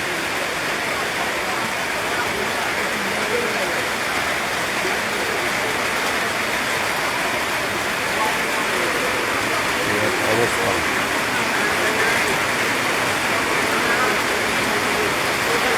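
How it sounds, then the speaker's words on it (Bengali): Heavy rain pours steadily over a village after falling since the previous night, a dense, even hiss of water on surfaces lasting throughout with no pauses and no other sounds standing out. "কি বৃষ্টি হচ্ছে এটা আসলে বলার ভাষা নেই"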